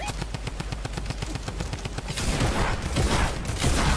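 Rapid automatic gunfire in an Italian-played online shooter, dense bursts of shots continuing steadily, loud and close, with no talk over them.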